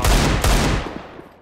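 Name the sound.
Desert Eagle pistol gunfire in a video game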